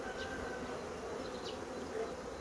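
Honey bees buzz steadily around a very small colony at the front of a spring hive, a soft continuous hum close by with occasional louder passes of single bees.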